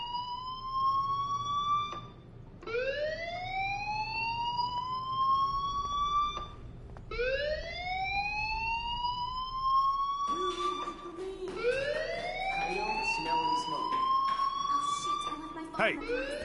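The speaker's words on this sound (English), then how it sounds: "Hey, do you hear that fire alarm?" Fire alarm in the video game Life is Strange, a rising electronic siren-like wail that sweeps upward repeatedly in long cycles, steady and loud, with a voice speaking over the later part.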